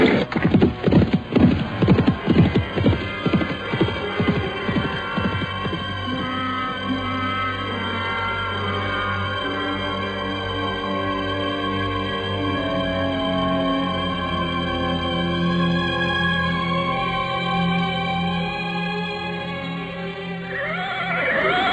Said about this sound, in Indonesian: Dan dua orang itu pun segera berkuda menuju pagar Gunung Batu